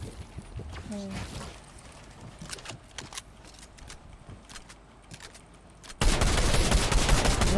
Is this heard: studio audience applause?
no